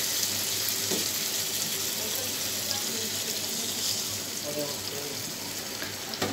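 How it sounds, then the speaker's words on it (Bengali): Broth is poured into a pan of eggplant and hilsa fish curry, producing a steady hissing, splashing liquid rush and sizzle throughout, with someone talking softly underneath. "এবার আমি ঝোল দিয়ে দিব।"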